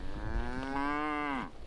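A cow gives one long, close, loud moo lasting over a second with a steady pitch that drops off at the end, set against faint outdoor background noise in a remote village.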